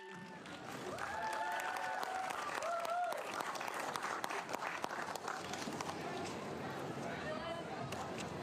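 A crowd at the Gold Coast Marathon applauds the third-place finisher of the boys' 4-kilometre junior dash, with steady clapping carrying throughout and a few scattered cheers mixed in.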